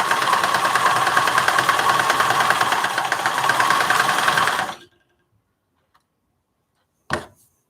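Sewing machine stitching a project bag, a loud steady mechanical whirr with rapid ticking that runs for under five seconds, then stops dead, leaving near silence broken by one brief clack near the end.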